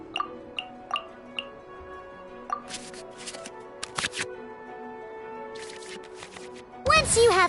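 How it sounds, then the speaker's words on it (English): Cards shuffled back into the draw pile in the Genshin Impact card game, heard as a run of light clicks and soft swishes, ending in a louder, denser flurry of card sounds with no talk. "we can select any number of cards in our hand to shuffle back into the draw pile, and then draw the same number of new cards"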